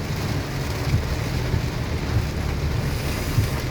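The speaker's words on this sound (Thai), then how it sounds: "ฝนตกใหม่แล้ว" Heavy rain pours in a steady, dense hiss during a storm, with low rumbling underneath and no voices.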